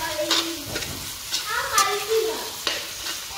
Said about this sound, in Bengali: পেঁয়াজ তেলের মাঝে গোসল করা নিয়ে।